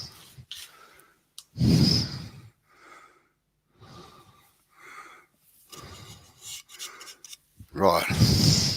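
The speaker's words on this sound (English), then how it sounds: "I'll get to go with the gouge and just get a bit out of there" A wood-turning gouge cuts inside a vase on a lathe, giving bursts of raspy scraping that come and go, with the loudest passes at the start and the end.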